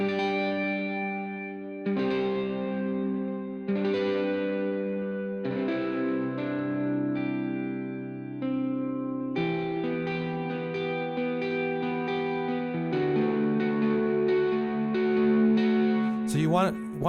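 Soft electric guitar played gently with effects such as chorus, distortion and echo, its sustained chords and ringing notes forming an ambient wash at steady moderate loudness, with a brief sharp flourish near the end.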